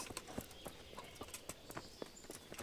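Horse hooves clip-clop at a steady walking rhythm in Kingdom Come Deliverance, sharp and fairly close, with faint ambient background and no talk.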